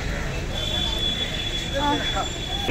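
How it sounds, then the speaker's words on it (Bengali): A train pulls into Howrah station with a steady rumble and a thin high squeal of wheels, while people talk nearby over the platform noise. "ট্রেন এসে গেছে"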